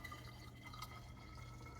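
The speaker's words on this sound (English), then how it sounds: "we'll go ahead and start pouring that in to our recycled jar" A watery almond mixture is poured into a recycled glass jar, giving a faint, steady trickle and soft dripping over a low background hum.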